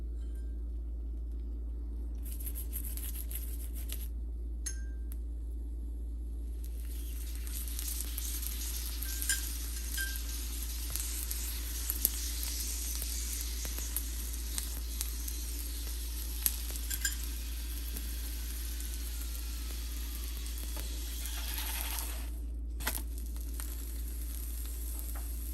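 A gobi paratha fries on a hot pan after a little oil is added, giving a steady, close sizzle that runs throughout with a few light clinks and scrapes over a low constant hum.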